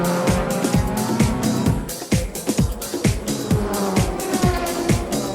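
JGTC race cars, including the pole-sitting Motul Pitwork Z on slick tyres, scream past close by in quick succession, each engine note rising and dropping sharply as it passes, with a loud, continuous racing roar and no talk.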